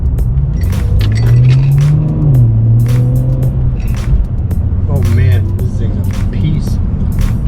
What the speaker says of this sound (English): It's got a good grind from the back. It drives decent.